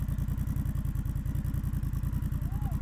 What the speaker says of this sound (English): But here's startup.